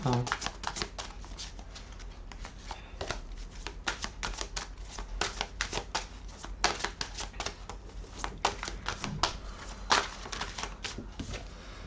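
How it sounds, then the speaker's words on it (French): Tarot cards from a heart-chakra deck being shuffled by hand, a steady run of quick, crisp riffling clicks and slides lasting the whole stretch, close and fairly soft, with a few louder flurries. "je vais prendre les cartes du chakra cœur"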